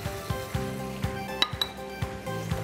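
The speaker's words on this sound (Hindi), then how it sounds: "हरी मिर्चें डाल दीजिए" Green chilies go into a cooking pot of chicken korma with boiled chana dal, with a string of metallic clinks and taps from a spoon against the pot, spaced about every half second, over a low sizzle.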